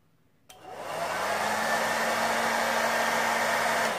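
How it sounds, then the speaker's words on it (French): A hair dryer switches on with a sharp click and then blows in a loud, steady broadband whoosh with a constant motor whine, running alone with no talking, used to heat battery wraps. "je vais prendre le sèche-cheveux et regardez bien ce qui se passe"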